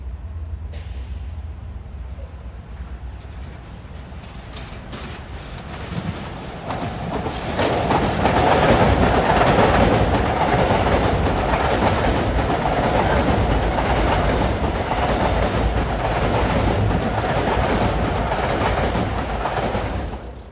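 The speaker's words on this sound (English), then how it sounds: "And right away we have a train for Penn Station." A Long Island Rail Road train passing through Queens Village station: a low rumble swells after a few seconds into a loud, sustained roar of wheels and cars rolling past close by, with faint clicking on the rails.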